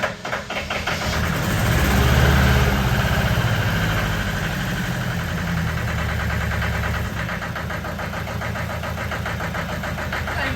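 Allis Chalmers 5030 tractor engine idling steadily after a cold start, a loud low rumble that runs evenly throughout with a slight swell early on and no talking.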